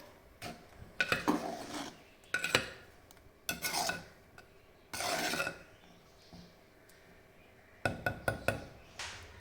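A spoon scrapes and clinks around a metal pot of mango and drumstick curry in several separate bursts, with quiet pauses between the stirring strokes, close and moderately loud.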